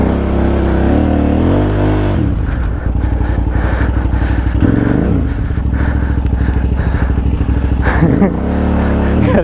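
A KTM 990 adventure motorcycle revs hard as it climbs a hill, loud and close, with rising and falling engine pitch and bursts of throttle throughout.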